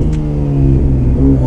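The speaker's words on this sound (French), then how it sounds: "Waouh, t'entends les turbos derrière toi?" Porsche GT3 RS with a roughly 800 hp twin-turbo engine, heard from inside the cabin in traffic: a loud, steady engine drone with a slight rise in revs and a faint whistle layered over the deep rumble.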